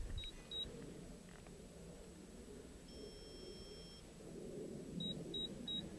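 Faint electronic beeping from a model rocket's altimeter, a couple of short tones early and then three evenly spaced beeps near the end, over low background hum.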